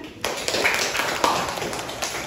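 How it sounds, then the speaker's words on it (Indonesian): A burst of clapping from a classroom of students, dense and steady for a couple of seconds after a brief quiet start. "Beri tepuk tangan."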